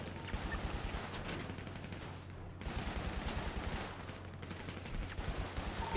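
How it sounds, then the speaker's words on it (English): Video game gunfire during an online manor holdout match: dense, continuous bursts of rapid automatic shots, loud and sustained, with a brief pause midway before the firing resumes. "He's shooting right now."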